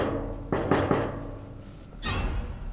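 Zombie banging on a door in the video game Project Zomboid: three heavy thuds in quick succession, then a pause and one more loud thump, alone with no talk.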